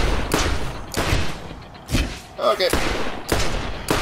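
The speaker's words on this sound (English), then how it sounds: "Now this gun is a weird one. A cheap SMG." Cheap SMG gunfire in Borderlands, loud repeated bursts of shots in rapid succession, close and punchy, with someone talking briefly between volleys.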